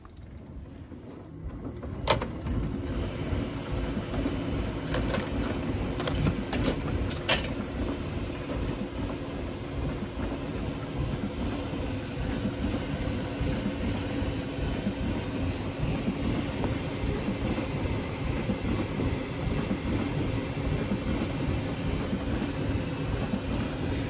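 Hupfeld Helios III orchestrion running a roll, its gears and mechanism producing a steady low mechanical rumble and whir, with a few sharp clicks near the start, fairly close and continuous.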